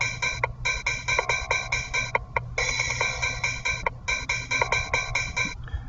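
A programmed bass pattern from a step sequencer plays alone, a steady rhythmic run of short synthetic hits in repeating bars with brief gaps between phrases.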